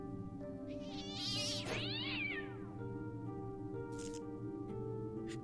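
A cat in the video game Fran Bow lets out a loud, drawn-out, wailing meow over a low musical drone, followed by fainter rustling sounds and no speech.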